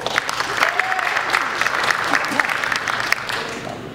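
An audience applauds steadily for the singer during a 2022 show, with dense, even clapping and some crowd murmur throughout.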